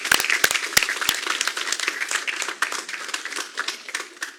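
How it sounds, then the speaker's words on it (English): A community gathering applauds the parents of student athletes, opening with a few sharp nearby claps before settling into steady mid-level applause that continues throughout. "I just want to give you guys a round of applause for supporting these kids and their accomplishments"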